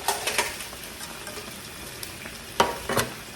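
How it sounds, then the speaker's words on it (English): Food sizzles and pops in a frying pan while being stirred during a Hungarian armed forces MRE cook-up, with a steady faint crackle broken by a few sharper stirring scrapes near the end. "You hear that sizzle?"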